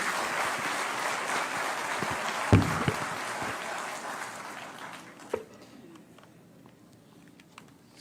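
Audience applause at a Teacher's Day honour ceremony, a dense roar of clapping from a large hall that thins out and fades over several seconds, with a few loud thumps near the microphone.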